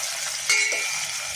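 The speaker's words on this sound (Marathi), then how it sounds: "आता आपण ह्याच्यामध्ये टोमॅटो घालून टोमॅटो मऊ होईपर्यंत परतणार आहोत." Tomatoes and onion are sautéed in a pan for a chicken masala, giving a soft, steady sizzle with a brief stirring scrape about a third of the way in.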